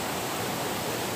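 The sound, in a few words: waterfall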